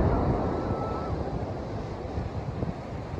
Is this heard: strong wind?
yes